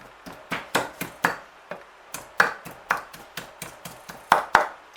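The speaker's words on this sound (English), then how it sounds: "I just did a little mallet around the edge of them" A meat mallet taps around the edges of stuffed pork schnitzel, a series of about twenty crisp, close knocks in an uneven rhythm with short gaps between them.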